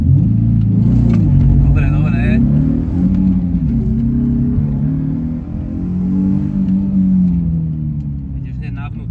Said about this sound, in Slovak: Motor, teraz odbubleme my.